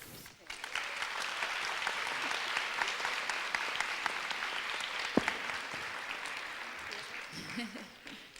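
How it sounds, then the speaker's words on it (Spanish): Sustained applause from an audience at a talk on alternative art, journalism and activism, honoring someone called Matador; dense, even clapping continues throughout with a brief sharp peak near the end. "un aplauso para Matador"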